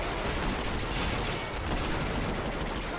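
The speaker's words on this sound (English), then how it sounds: "I just got hit with this big explosion." A big explosion in the video game Killing Floor comes as a loud, sustained burst of roaring blast noise with rattling crackle, filling the whole stretch without spoken words.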